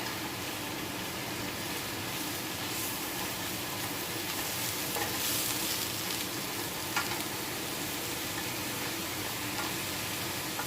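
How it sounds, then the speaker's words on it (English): Mushrooms sauteing in a pan alongside a scallop and mushroom risotto meal, giving a steady even sizzle across the whole stretch with soft stirring scrapes now and then, fairly quiet and without talk. "I'm just going to go ahead and keep sauteing these and stirring them and working on the risotto"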